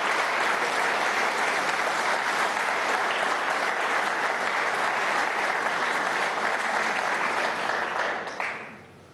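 Sustained applause from a studio audience at a Venezuelan televised political programme, dense and even for several seconds before it tapers off at the end.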